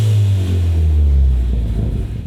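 A Ford Focus ST engine, modified for more horsepower, revs up loudly with a deep low rumble up close, then the note settles and falls back as the revs drop, with no talking over it.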